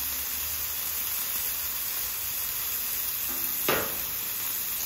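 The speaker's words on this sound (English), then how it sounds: "All that fat just beads down to them onions and just cooks and cooks and cooks." Smash burgers and onions fry on a Camp Chef flat-top griddle, giving a steady, even sizzle throughout with one brief louder scrape or burst near the end, and no talking.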